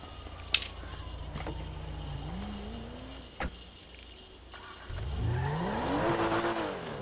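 A Porsche sports car in the GTA 5 video game drives off with engine revving and rising, a short tire squeal and clunks, then louder acceleration near the end.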